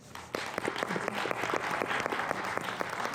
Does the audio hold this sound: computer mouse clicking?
no